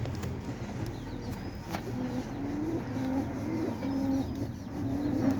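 Pigeons coo in a series of soft, low, repeated calls at moderate distance over a faint background hum, growing slightly more frequent toward the end.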